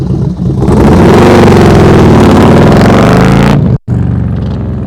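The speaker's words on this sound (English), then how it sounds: "Ah, the motorcycle sounds good." A motorcycle engine revs loudly up close during a slow-speed riding practice session, pitch climbing and wavering through a sustained throttle burst before cutting off abruptly, then idling briefly afterward.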